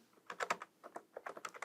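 Fast keystrokes on a computer keyboard in two quick runs of clicks, close and clear with no talking over them.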